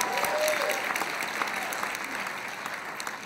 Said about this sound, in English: Let's give the company a big round of applause there.